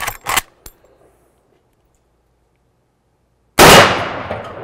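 A Marlin 1895 lever-action rifle chambered in .45-70 fires loud, sharp blasts at the start, then goes quiet. Near the end a second powerful report rings out and slowly fades.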